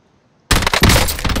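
Loud rapid burst of gunfire in a shooter video game, Apex Legends with the SA12, breaks in abruptly after near silence and rattles on densely at close range.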